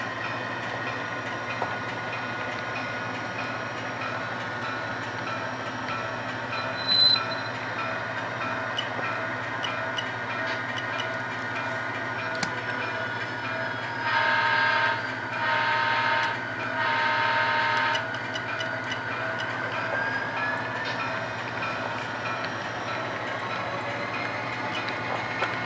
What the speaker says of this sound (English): I like this sound unit that I've got inside this Jeep 35. I really like hearing that turbo whine.